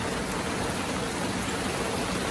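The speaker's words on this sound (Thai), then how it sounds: "แล้วฝ่าฝน" Heavy rain falls steadily during a storm, a dense, even wash of close, loud downpour with no voices.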